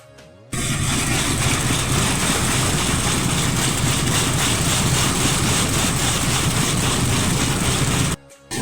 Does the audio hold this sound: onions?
no